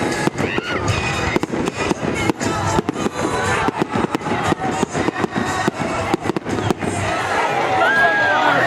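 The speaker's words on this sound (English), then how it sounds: "the class of 2019 was finally able to officially cut loose to a crescendo of fireworks" Fireworks burst in a rapid barrage at a 2019 graduation celebration, sharp loud cracks and booms crowding one another over a steady roar, with crowd noise mixed in beneath.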